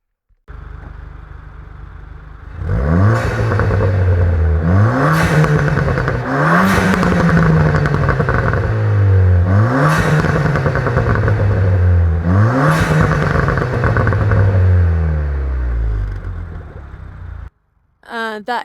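Ford Fiesta ST exhaust revved repeatedly while parked, about five sharp rises in engine pitch that fall back to idle between blips, loud and close at the tailpipe, followed by a short cutoff.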